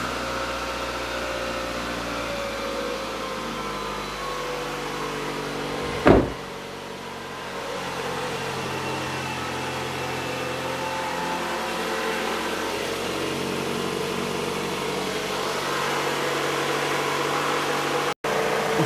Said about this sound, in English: So now reinstall the fuse. And start the engine.